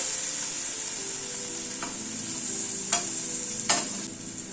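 Tomatoes sautéing in a pan give a steady, even sizzle that runs throughout, with a few sharp stirring clinks near the end and no voices.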